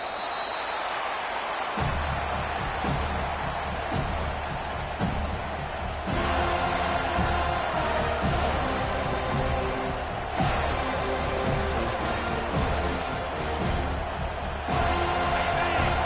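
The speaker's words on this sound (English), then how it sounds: "This crowd bringing an ear-splitting welcome to their visitors." Stadium crowd noise roars steadily throughout a college football video game featuring the Seminoles at an opening kickoff, a broad, loud, sustained cheer with occasional swells and thumps.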